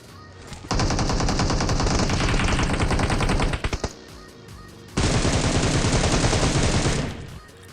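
An UZI submachine gun in PUBG Mobile fires two long, rapid automatic bursts, loud and dense, separated by a short pause.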